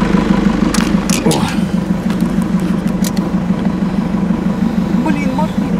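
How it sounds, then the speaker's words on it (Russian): A car engine hums steadily nearby, rolling past on a road where foxes are being fed, with people talking over it. "Блин, машина."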